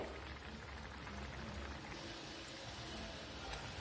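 Vadas deep-frying in hot oil, a continuous soft bubbling and crackling hiss, fairly faint and steady, with no talking.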